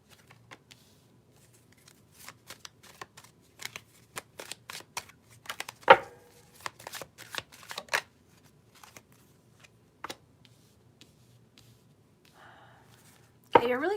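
Tarot cards being shuffled by hand, soft scattered riffles and flicks spread across the stretch with quiet gaps, a sharper card snap midway and a brief louder rustle at the end, close and fairly faint.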